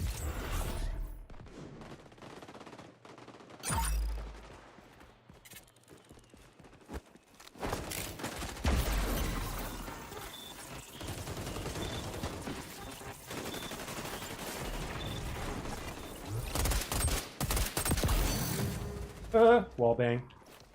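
Gunfire in XDefiant, shot bursts and rapid automatic fire in several clusters separated by quieter gaps, with a person talking over parts of it.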